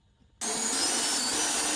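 A drill bores out rivets on the coin door of a 1951 Vendo 39 Coke machine, starting abruptly and holding a loud, steady, close whir.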